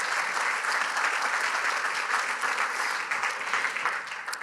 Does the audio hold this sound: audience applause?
yes